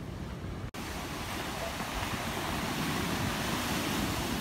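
Sea waves washing onto the shore near Chivirico, Santiago de Cuba, make a steady, dense roar with wind buffeting the microphone and one brief dropout near the start. No one speaks.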